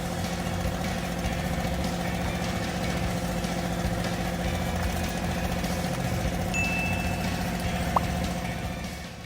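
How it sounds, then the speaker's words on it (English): A homemade wood-splitting machine driven by a tractor engine runs steadily, a loud, even engine drone and mechanical hum holding throughout, with a brief higher whine partway through and a short sharp click near the end. "Combined with a tractor engine, it creates a surprisingly effective wood-splitting machine."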